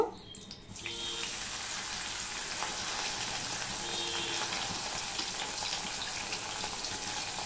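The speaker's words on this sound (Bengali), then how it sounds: "দিয়ে এবার মাছগুলো আমি ভেজে নেব" Batta fish frying in oil in a kadai makes a steady, close sizzle that opens with a short louder burst and then keeps a constant crackling hiss throughout, with no talk.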